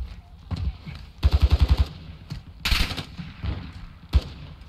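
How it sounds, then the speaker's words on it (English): Bursts of automatic gunfire in the Call of Duty DMZ video game, a rapid volley of loud shots followed by scattered single and short bursts, with players talking over the action. "They're shooting at something."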